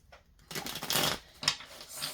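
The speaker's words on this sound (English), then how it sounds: "Let's just shuffle a little bit more since we had a repeat." Tarot cards being shuffled by hand in a reading, a few soft riffling bursts of papery rustle with short pauses between, close and fairly quiet, no voices.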